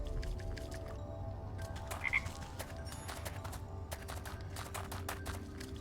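Frogs croak down a well in the video game Wytchwood, a dense rapid clatter of croaks in repeated bursts with brief pauses, over a steady low ambient hum.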